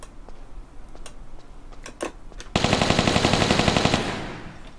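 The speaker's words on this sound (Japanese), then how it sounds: "そろそろ、ウージーの音が聞きたくてたまらんニキネキがいるかもしれない。" Uzi fire in the video game Tomb Raider III: after a few sharp isolated clicks and shots, a loud, close, rapid burst of automatic gunfire rattles steadily for about a second and a half, then fades out, with no talk.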